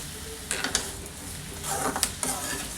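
A spoon stirs ridge gourd gravy with rock salt in an oily pan, giving soft scraping strokes and light clinks in two bursts over a quiet continuous sizzle, close up and without talk.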